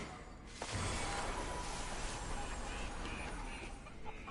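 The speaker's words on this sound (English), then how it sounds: "More chickens?" Video game chickens in Immortals Fenyx Rising cluck softly under a steady, dense wash of game ambience and effects, fairly faint and continuous across several seconds.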